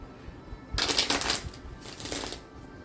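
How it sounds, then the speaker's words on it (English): A deck of tarot cards is shuffled up close, a sudden dense riffling burst that runs for about a second and then continues in softer, uneven flutters, with no talk over it. "Y'all hear me shuffling?"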